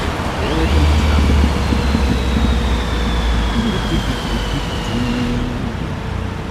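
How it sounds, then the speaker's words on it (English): Dense evening city traffic in Shibuya, Tokyo, heard while riding a motorcycle: a steady loud roar of engines and road noise, with a low motor drone and a passing vehicle's whine, no talking. "here comes the traffic"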